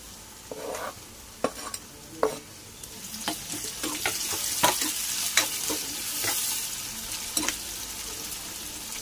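Tomatoes go into a pan of frying onions and green chillies and are stirred, a soft continuous sizzle with irregular scraping and clattering spoon strokes that grow busier as the frying builds, close by, with no talking.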